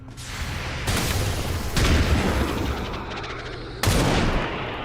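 Three heavy, booming blasts from a hunting shotgun in a video game, spaced about a second or more apart, each with a long rumbling tail and no talk.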